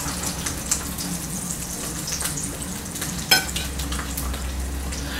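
An egg frying in a pan, a steady close crackling sizzle with small pops and one sharper tick partway through.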